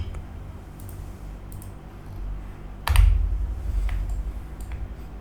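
Fingers tap on a computer keyboard at a desk, soft quick clicks in short irregular bursts, close and fairly quiet, with a slightly louder thump of keystrokes near the middle.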